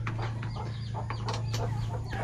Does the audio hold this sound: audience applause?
no